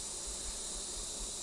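Bees buzzing at an apiary during a hive inspection, a dense, steady hum of many insects close by, filling the short stretch without pause.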